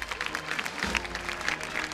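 Spectators at a Holy Week procession of the Cristo de la Misericordia and Virgen de la Piedad applaud the bearers rocking the float, a short burst of dense clapping from a crowd.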